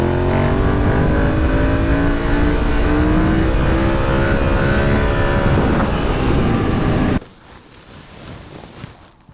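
An adventure motorcycle's engine revs hard and steadily at close range during a wheelie at the end of an off-road training day, its rising harmonics filling the first seven seconds before cutting off to quiet wind noise.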